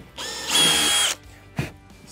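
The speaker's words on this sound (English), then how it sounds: "Let's go ahead and drill out this hole for this cord to go through." A power drill whirs in a short burst for about half a second, drilling a hole for a cord, then stops; a brief thump and quiet handling follow.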